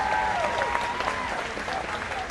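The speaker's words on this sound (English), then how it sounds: "Give it a round of applause." An audience at EPCOT's Christmas Around the World night event breaks into sustained applause, a dense wash of clapping and cheering throughout, with a faint voice or tone carrying over it.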